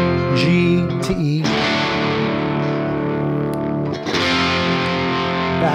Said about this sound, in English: In the pre-chorus, I go down to my first position chords.